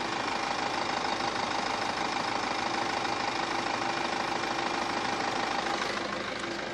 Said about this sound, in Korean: 이제 바로 엔진 소리 한번 들려드릴게요.